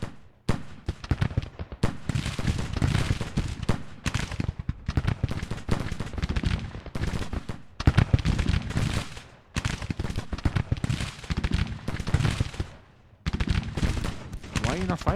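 Musket volleys crackle across a Civil War battle in Grand Tactician, dense overlapping shots in long rolling bursts with brief lulls, loud and continuous, while someone talks over the gunfire.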